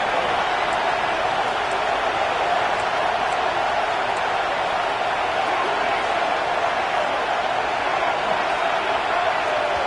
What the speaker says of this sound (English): Man, this crowd really affecting the football game.